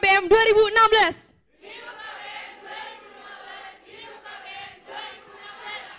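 A student crowd at a campus election rally chants together. A loud, sharp shout opens it, then after a short gap comes a sustained chorus of many voices in unison that rises and falls in rhythmic waves.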